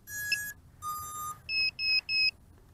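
FuriBee X215 Pro FPV racing drone powering up as its battery is plugged in: a sequence of clear electronic tones, one short high tone, one longer lower tone, then three quick identical two-pitch beeps, close and alone.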